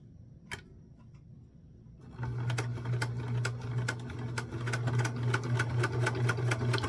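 A tabletop sewing machine quilts a mini sunflower quilt. After a quiet start with one sharp click, it starts up and runs in a steady, close hum with fast, regular stitching ticks.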